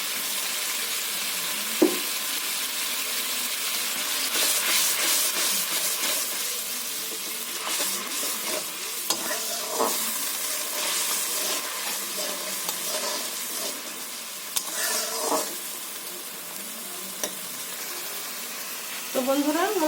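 Chili and spice paste frying in oil makes a soft continuous sizzle, with intermittent clinks and scrapes of stirring and an occasional watery splash. A voice speaks faintly at times underneath.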